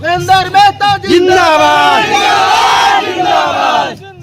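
A crowd of supporters cheers at a nomination filing in Kutumba block, with loud, close, rhythmic chanting and shouts that swell into a sustained roar of many voices.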